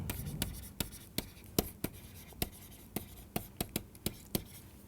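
Chalk or marker writing on a board during a physics lecture on group representations, a quiet series of regular sharp taps and strokes at a fairly even pace, with no talking.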